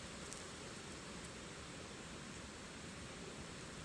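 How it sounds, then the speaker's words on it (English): Silver Pass Creek runs along a John Muir Trail hike, a steady, faint broadband rush of flowing water with no breaks or voices. "Nice little creek running through here."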